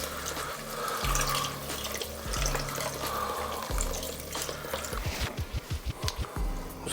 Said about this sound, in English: So 2 cups of beef broth.